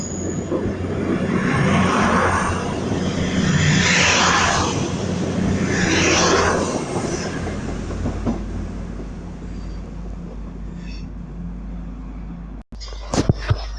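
Class 221 unit 221130 passes through Durham station, a loud, sustained rush of engine and wheel noise that swells in waves and then fades. A brief clatter comes at the end.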